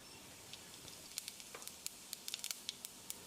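Cumin seeds crackle faintly in reused frying oil in a kadai, giving scattered soft pops and light sizzling over a quiet background.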